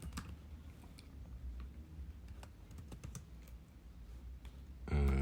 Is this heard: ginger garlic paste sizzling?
no